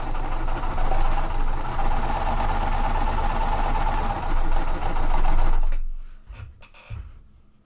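A sewing machine chain-pieces die-cut quilt sections in one continuous, fairly loud run of rapid stitching, then stops abruptly, leaving a few faint clicks and handling noises.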